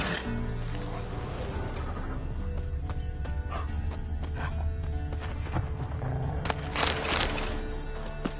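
Horse hooves clatter steadily throughout a Witcher 3 video game scene, with a loud whinny rising near the end, all over a continuous low rumbling game soundscape.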